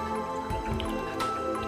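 Water gushes from a running borewell jet motor pump on agricultural land in Dindigul district, with close, steady splashing and dripping over a constant mechanical hum.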